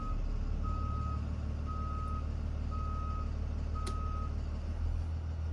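Truck backup alarm sounding after the driver shifts into reverse, four steady evenly spaced beeps over a loud idling engine rumble, close by.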